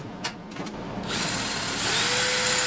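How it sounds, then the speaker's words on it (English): A few light knocks, then a power drill spins up and whirs loudly and steadily, its pitch rising as it bites in. "I think it's time to drill and just bolt this in place"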